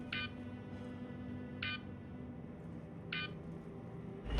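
Three short, evenly spaced electronic beeps from a Star Citizen game alert, about 1.5 seconds apart, sounding over a low steady hum.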